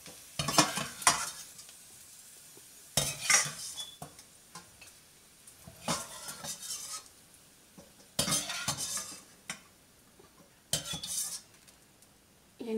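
Raisins and dried dates fry lightly in a pan for sheer khurma, with soft sizzling under repeated bursts of a spoon stirring and scraping against the metal, loud clattery strokes separated by quieter pauses.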